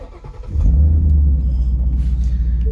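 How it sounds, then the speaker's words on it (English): A Ford Mustang GT 5.0 V8 coupe with a six-speed manual and ROUSH exhaust starts up close by, a sharp catch at about half a second swelling into a loud, deep burbling idle that pulses steadily to the end. "show you the sweet note of a V8 Mustang with a ROUSH exhaust"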